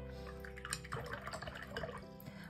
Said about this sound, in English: I wash my brush.